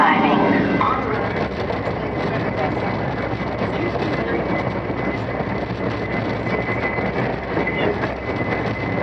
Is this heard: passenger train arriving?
yes